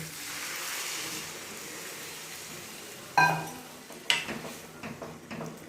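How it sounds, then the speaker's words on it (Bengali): Water poured into a pot of fried, washed mung dal, a quiet rushing pour, then two sharp clatters of metal against the pot followed by softer bubbling and scraping. "মুগের ডালটা ভেজে নিয়ে ধুয়ে রেখেছিলাম, এইবার জল দিয়ে দেবো।"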